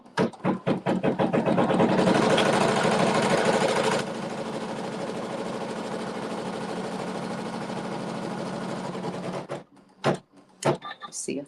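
A sewing machine runs a seam through fabric for about nine seconds, a steady close mechanical whir with quick needle rhythm, starting and stopping with short bursts at the end.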